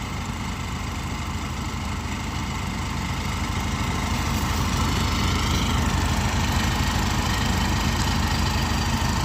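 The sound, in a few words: tractor-powered mustard thresher engine running on a farm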